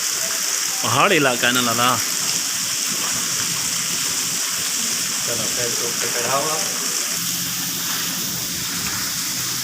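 Heavy rain pours steadily in a hilly area near Islamabad, a broad constant hiss through the whole stretch, with someone talking over it near the start and again later.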